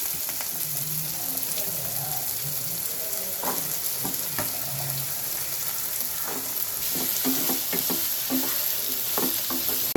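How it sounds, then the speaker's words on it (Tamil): Radish pieces sautéing in a pan with tomato, garlic and curry leaves, a steady close sizzle over ten seconds, with scattered spatula scrapes and stirring clicks. "இந்த முள்ளங்கியை கட் பண்ணி வச்சுருந்ததை போட்டு நல்லா வதக்கிக்குங்க"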